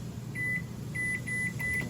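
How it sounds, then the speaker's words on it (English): Microwave oven heating a large batch of plastic for making fishing lures, emitting a series of short electronic beeps over a steady low hum of the running appliance. "let's get this plastic in the microwave"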